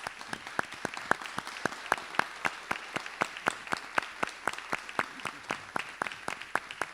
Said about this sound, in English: can we please give them a great round of applause?